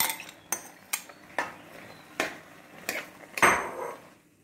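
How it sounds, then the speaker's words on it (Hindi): Chopped beetroot, onion, garlic and green chilli are tipped into a cooking pot for homemade tomato sauce, giving a series of separate clinks and knocks of utensil on metal, with a louder clatter and rustle near the end. "अब हम इसमें ये अपना चुकंदर, प्याज और लहसुन, हरी मिर्च, ये सब चीज़ें हम इसमें डाल देंगे।"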